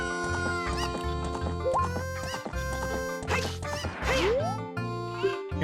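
Chickens cluck and squawk repeatedly in The Legend of Zelda: Ocarina of Time as the player tries to run them over, with quick game-sound whacks and tones mixed among the bird calls.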